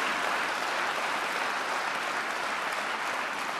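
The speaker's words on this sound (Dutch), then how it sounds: "Wij geven een applaus aan de Heer." A church congregation applauds in steady, dense clapping that holds evenly throughout.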